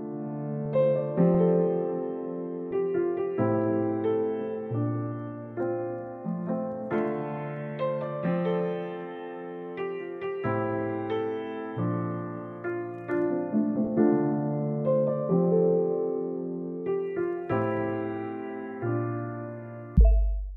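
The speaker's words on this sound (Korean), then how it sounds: "이렇게 어둡고 부드러운 피아노 톤에서 좀 더 밝고 선명해지는 게" Solo piano plays a gentle melodic passage with chords, its tone shifting from dark and soft toward brighter and clearer as EQ is applied, ending on a final struck note.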